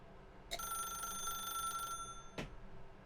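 A telephone rings in The Stanley Parable video game, a faint bright electronic trill lasting about a second and a half, followed by a single sharp click or knock, with no talk over it.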